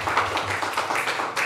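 Applause at a residents' association annual general meeting as a new member is called forward, a short burst of clapping from a seated crowd lasting about a second and a half.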